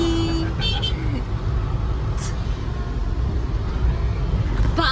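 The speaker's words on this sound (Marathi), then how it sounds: "आम्ही चाललो गाडी घेऊन घरी." Car interior while driving on a road, a steady low engine and road rumble throughout, with people talking over it.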